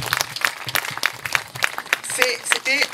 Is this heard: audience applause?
yes